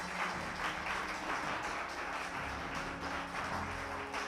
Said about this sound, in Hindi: वसीम के लिए एक बार जोरदार तालियां हो जाए।